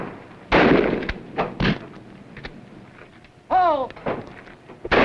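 Shotguns fire at clay targets in a 1940s film scene, booming blasts spaced over a few seconds, with a shouted call in between and a sharp final report.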